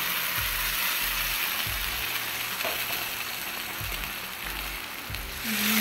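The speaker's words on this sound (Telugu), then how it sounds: "ఇప్పుడు మిక్సీ పెట్టుకున్న టమాటా ప్యూరీ వేసేసుకుందాం" Tomato puree goes into fried onions in a pan and sizzles with a dense, continuous hiss, while low thuds recur every second or so as it cooks, close up and without speech.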